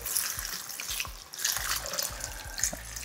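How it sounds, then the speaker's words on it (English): Water is poured into a pot of Caribbean oxtail stew with lentil peas, cinnamon and roux. It makes a continuous close splashing and trickling sound, with gurgling bursts as the liquid hits the pot. "And now I add in 4 cups of water."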